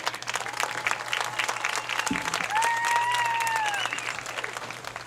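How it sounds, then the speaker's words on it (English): Crowd applause in the stands at a Fannin County high school football game honoring seniors, a broad wash of clapping and cheering, with a long whistle-like tone rising over it midway. "Let's give them a big round of applause before we begin"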